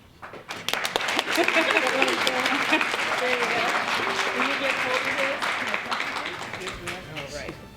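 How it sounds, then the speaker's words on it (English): An awards ceremony crowd claps for two youth ambassadors, a full, lively round of applause with cheering voices mixed in, building quickly and gradually thinning out. "Applause."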